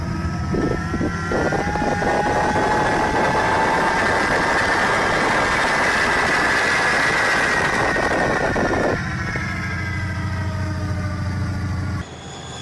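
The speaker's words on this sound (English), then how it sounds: "It looks like a train with a jet engine." A train powered by a jet engine gives a loud, steady engine roar with a rising whine, then settles into a lower rumble before an abrupt cut.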